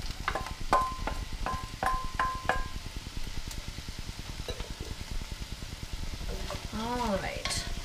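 Carrots and celery sauté with softened onions and garlic in a soup pot, giving a steady close sizzle with rhythmic scraping and clinking of a spoon as the vegetables are stirred.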